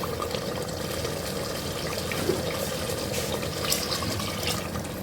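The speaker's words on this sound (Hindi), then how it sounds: "1 गिलास पानी डाल के" A glass of water splashes into a pot of mutton biryani in a home kitchen, a continuous pouring and bubbling gush for several seconds, fairly close, with no talking.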